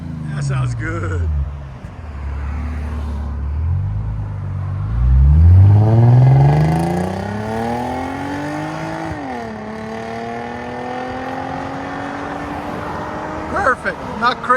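A Lexus RC 350 fitted with Apex mufflers idles low, then climbs through one long, smooth rev with a deep exhaust tone and eases back down, ending in a few short blips.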